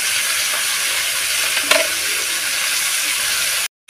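Spices sizzle steadily in a hot pan for chicken pulao, giving a broad, close frying hiss with a brief stirring scrape midway before it stops abruptly.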